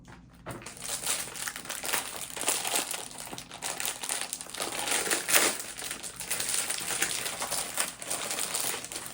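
Standard AmeriQual double plastic packaging on a US MRE ration, Southwest beef and black beans menu, being peeled and handled close up, with continuous loud crinkling and crackling of plastic, no talking.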